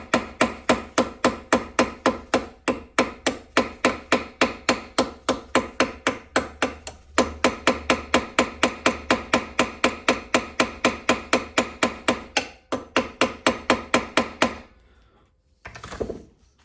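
Rapid, steady hammer taps ring out while a small Dinky Jaguar die-cast toy car is being repaired, dozens of close, sharp metallic blows in an even rhythm that pauses briefly midway, then stops near the end.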